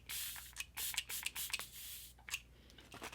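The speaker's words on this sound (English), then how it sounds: "So this one has an aerosol can, but it's really weird because it's not a continuous spray" Quiet, short hissing bursts of an aerosol makeup setting spray come in an irregular series of puffs, close and soft, with no talking.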